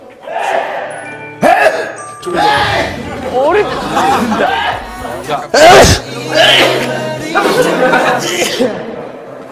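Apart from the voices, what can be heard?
sneeze on set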